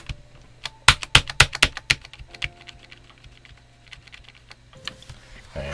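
Typing on a Redragon K596 Vishnu TKL mechanical keyboard with rattling stabilizers, a fast burst of loud, close key clacks that then thins into softer, scattered presses.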